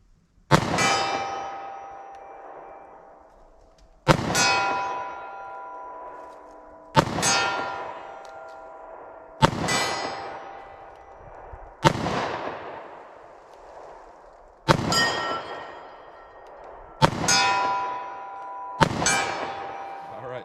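Bullets strike a steel protective plate at a shooting range with .40 S&W and .357 Magnum rounds from short barrels, giving eight sharp metallic clangs roughly every two to three seconds, each ringing out and decaying before the next.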